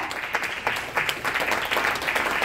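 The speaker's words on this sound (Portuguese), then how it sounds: "Aplauda o Senhor!" A church congregation during a family worship service claps together, a brief burst of loud, closely spaced handclaps with a loose rhythmic pulse and a roomy, reverberant feel.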